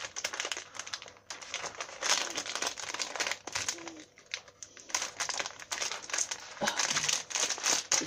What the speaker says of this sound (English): I can never open anything without scissors.